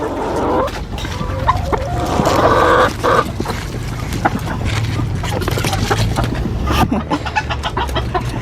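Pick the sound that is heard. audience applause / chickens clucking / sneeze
chickens clucking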